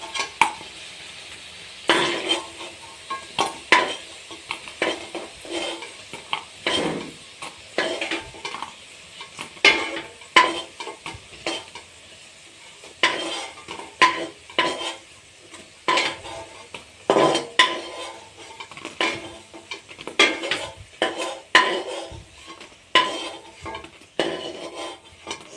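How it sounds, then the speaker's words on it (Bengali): Fried lentil fritters lifted out of a pan of oil into a bowl, with clinks and scrapes of a metal utensil against the pan and dish, light sizzling underneath and irregular clatter throughout. "আমি এবারে বড়াগুলো তুলে নেব"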